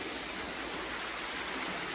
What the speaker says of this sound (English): How can you not like a waterfall?